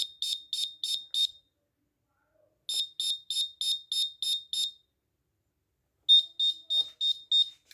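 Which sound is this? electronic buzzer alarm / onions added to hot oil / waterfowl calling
electronic buzzer alarm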